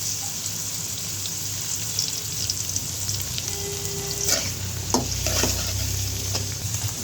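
Half-boiled cauliflower fries in hot oil with a continuous hissing sizzle and some wet crackles. A few sharp clicks and a short tonal hum rise near the end, with no voices.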